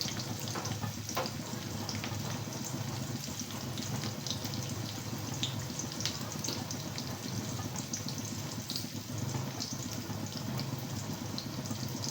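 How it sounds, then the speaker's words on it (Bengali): Steady hissing sizzle of chopped onion and garlic frying in hot oil, constant and fairly close, with no talking over it. "এই যে পেঁয়াজ আর রসুন কুচি করে রেখেছিলাম সেগুলো ভাজা ভাজা হতে লাগবে"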